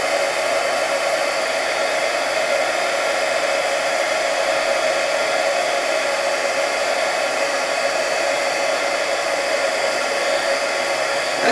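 A heat tool blows a steady, loud, continuous roar while melting embossing powder for an intaglio printmaking technique, the hair-dryer-like whoosh running unbroken throughout with no talking.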